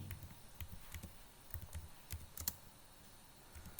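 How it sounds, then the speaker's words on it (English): Quiet typing on a computer keyboard, irregular soft key clicks in short bursts, faint and close with no talking. "So in calculated field I have to type Pearson"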